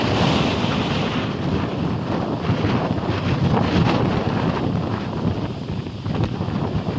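Strong typhoon wind buffets the microphone in a steady, loud roar, with rough sea waves surging in the background and no talking.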